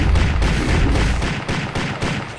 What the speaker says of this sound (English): Let's destroy these with the machine gun.